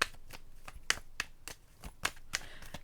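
Tarot cards handled and drawn during a reading, giving a series of short, crisp card snaps and slaps at uneven intervals, close and fairly quiet, with light rustling between them.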